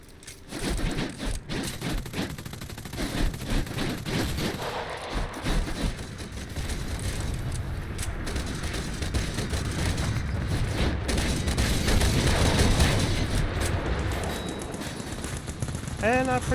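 Machine-gun tracer fire aimed at aircraft in War Thunder rattles in dense, continuous bursts, with booming explosions and engine drone filling the mix throughout.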